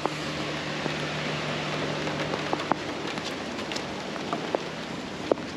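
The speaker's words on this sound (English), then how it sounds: "It's raining a lot." Heavy rain falls steadily outdoors in Florida, a dense continuous hiss with occasional sharper drops tapping on a nearby surface.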